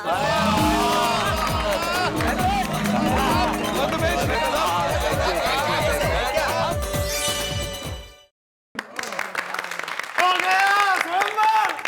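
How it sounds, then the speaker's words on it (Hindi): Applause and crowd noise welcome Anjali Bhabhi and Mehta ji at a festive Taarak Mehta Ka Ooltah Chashmah celebration, mixed under loud music, then a brief silence before voices and more music resume. "जोरदार तालियों से स्वागत करते हैं ऑसम अंजलि भाभी का और मार्वेलस मेहता जी का।"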